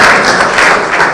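Applause from an audience at a political gathering, a steady dense wash of clapping with no break, loud and close, lasting about a second.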